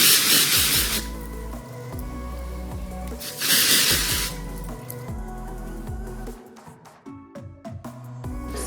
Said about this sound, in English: I like to spray it on in kind of like a zigzag motion